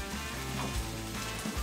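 Onions dropped into a hot pan for beef chili give a soft, steady sizzle, faint and continuous over a short stretch with small crackles.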